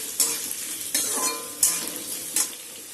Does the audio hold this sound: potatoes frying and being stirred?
yes